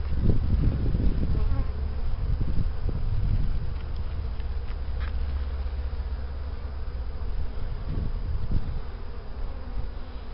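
Honey bees buzz around an open hive during an April inspection, a close, constant droning hum with a low rumble of wind beneath and occasional louder passes, with no speech.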